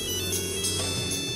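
A mobile phone rings with a bright, electronic tonal melody that repeats in short phrases at a steady level, with no one speaking.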